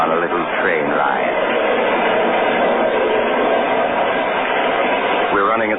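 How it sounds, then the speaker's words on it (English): A train rumbles steadily along its track as an old-time radio drama sound effect, a continuous loud roar with faint rhythmic clatter and a brief whistle-like squeal near the start and end, heard alone. "I want you to be my guest on a little train ride."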